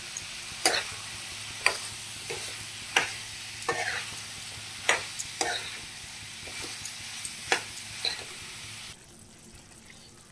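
Mushrooms being stirred into a thick masala gravy in a pan, a soft background sizzle broken by sharp, distinct scraping stirs at irregular intervals, close by, before the sound drops away near the end.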